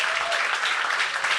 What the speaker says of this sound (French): J'aimerais ça qu'on lui redonne une bonne main d'applaudissement à Yann Terriot